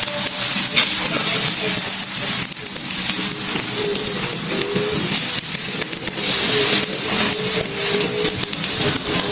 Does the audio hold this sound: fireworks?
no